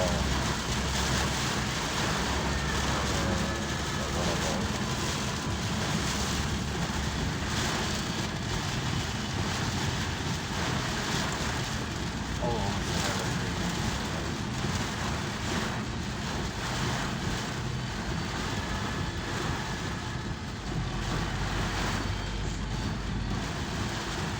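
Heavy rain drums steadily on a car while it drives along a toll road, a dense, loud, unbroken wash of noise with low road rumble underneath and no talking.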